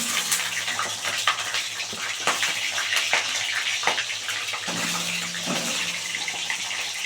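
Pointed gourd (potol) pieces fry in hot white oil for a yogurt potol dish, giving a continuous close sizzle dotted with sharp pops and crackles.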